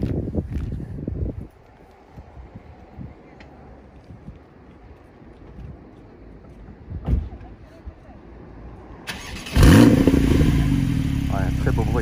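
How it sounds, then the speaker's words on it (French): A Porsche 911 GTS fires up near the end, its engine catching with a sudden loud burst and then settling into a strong idle, after a stretch of wind noise and quiet background sound. "je vais te laisser démarrer, comme ça on va écouter le bruit"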